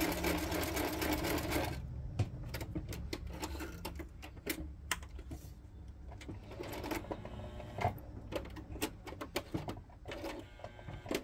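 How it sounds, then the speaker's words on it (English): A sewing machine stitches in stops and starts, with a steady mechanical whir broken by short bursts and clicks, fairly close and with no talking. "Just talking to my sewing machine."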